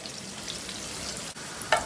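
Garlic sizzles steadily in a hot pan as a continuous even frying hiss, with a brief clink near the end.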